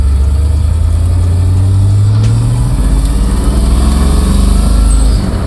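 A 1969 Chevrolet Camaro SS with a Hurst shifter and roughly 300 horsepower pulls away under a loud, steady engine drone, its low rumble rising in pitch as it accelerates before settling near the end.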